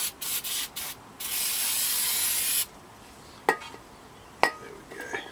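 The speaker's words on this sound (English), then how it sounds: "Give it a little squirt of the brake cleaner" Aerosol brake cleaner sprayed in a Range Rover Evoque rear wheel arch, a few short hissing bursts followed by one long loud continuous spray, then quiet with a couple of sharp clicks.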